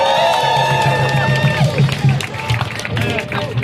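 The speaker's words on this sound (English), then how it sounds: "Give yourselves a round of applause." A crowd claps and cheers steadily in a large space, applause rolling on throughout with scattered whoops and a lingering tone fading early on.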